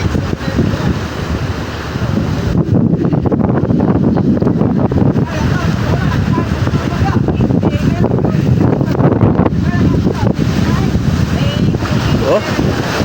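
Strong wind buffets a small boat out on the Pacific Ocean, a loud, roaring gusty rush with water noise that continues without a break, and the wind fluctuates in intensity.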